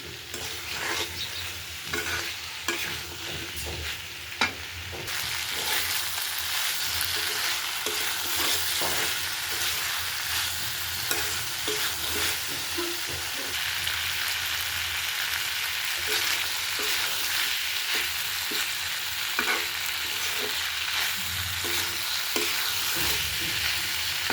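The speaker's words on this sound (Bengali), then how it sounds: "বিচিগুলো বিচিগুলো সহ একটু কষিয়ে নিব, নেড়ে চেড়ে কষিয়ে নিব।" Seeds sizzle as they are stir-fried in a pan for a home-cooked dish. A dense, continuous frying hiss carries on for a long stretch, with frequent scraping and clacking from the stirring and no speech.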